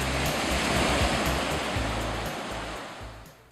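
A loud, steady wash of rushing surf, broad and continuous, gradually easing off toward the end.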